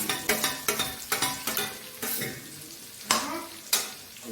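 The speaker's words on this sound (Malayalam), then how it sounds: "സവാള ഇടുകയാണ്." Onions, shallots, tomato and green chillies fried together for a Kerala-style chicken curry, with a loud close sizzle broken by repeated rhythmic stirring scrapes and clatters of a spoon in the pan.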